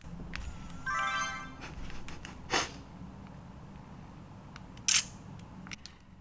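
A Nikon S3100 compact digital camera is being operated, producing a short electronic chime, then a few sharp clicks and beeps spaced a couple of seconds apart, close and isolated over a quiet background.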